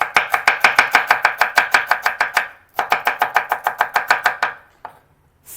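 An onion chopped finely with a knife on a board, a fast regular run of crisp close chops in two bursts separated by a short pause and ending on one last cut, with no talking.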